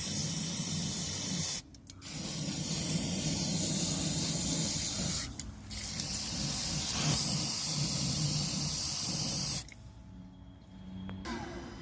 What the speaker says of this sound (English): Then I'll use some brake cleaner to clean off the AdBlue injector here.